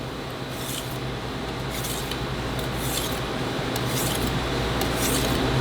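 A knife is sharpened on a finer-grit whetstone. Gritty scraping runs close and continuous, with faint stroke-by-stroke swells and no talking.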